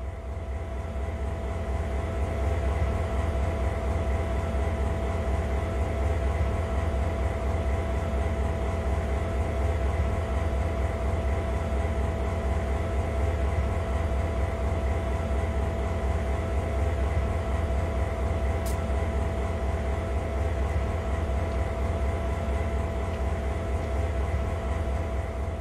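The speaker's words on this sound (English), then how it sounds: "Known as a GP38-2, it packs an efficient 16-cylinder diesel-electric motor able to" A GP38-2 diesel-electric locomotive with a 16-cylinder engine of 2,000 horsepower idles in the video game Train Sim World 2. It gives a steady, loud low rumble with a constant hum, unbroken and free of talk for the whole stretch.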